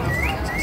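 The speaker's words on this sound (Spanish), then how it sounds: "¿Ese es un jilguero?" A goldfinch sings by Lake Camécuaro in Mexico during the Day of the Dead, a short, thin rising whistle carried over loud outdoor crowd noise.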